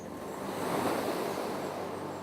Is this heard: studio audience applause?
no